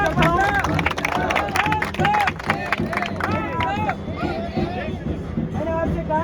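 A large crowd at a rural labour-protest rally in India claps and cheers loudly and continuously, with shouts and voices rising over the applause throughout.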